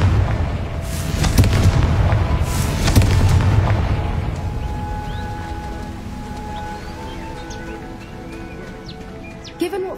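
A Confringo fire-blast spell explodes in the video game Hogwarts Legacy. Two loud, deep booms land close together, and each rumbling blast slowly trails off into a fading, echoing tail.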